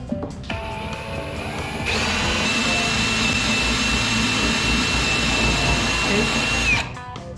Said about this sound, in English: In the end, Matt, and Mom of course, drilled out a total of 63 holes with a 7/8 inch Forstner